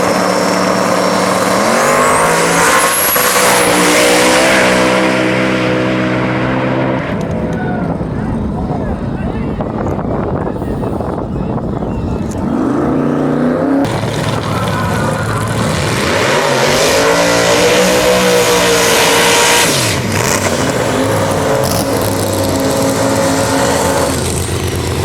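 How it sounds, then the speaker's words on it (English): Drag race passes by a Turbo Fox and a twin-turbo Hemi-powered Corvette, loud close engine roars rising and sweeping as the cars launch and run, with an announcer talking over parts of it. "Ellis Turbo Fox, lined up next to Brandon's twin-turbo Hemi-powered Corvette, and they are both actually on personal best passes here."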